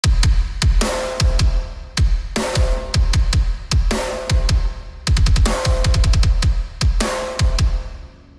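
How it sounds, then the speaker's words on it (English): Layered kick and snare from the RS Drums Monarch Kit, printed to audio, pound out a steady rock groove of punchy kicks and cracking snares with bright cymbal wash, loud and continuous with no talking. "I have the kick and snare layered, so you can get something that sounds like this."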